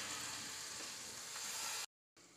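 Potatoes and fenugreek leaves fry in a pan with a steady, close hiss and sizzle, broken briefly by a moment of silence before the frying resumes.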